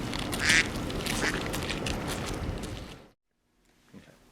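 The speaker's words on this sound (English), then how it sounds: "It's a duck party on the roof." Ducks quack in a loose, busy cluster on a flat roof covered in standing rainwater, fairly close and lively for about three seconds before falling almost silent, with a faint call returning at the end.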